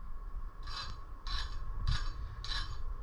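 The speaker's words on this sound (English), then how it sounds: "What you want to do now is take a file, and you hear that?" A hand file rasps across the untreated normal steel of a forged kiridashi knife in four distinct, evenly spaced strokes, close and moderately loud, with no talking.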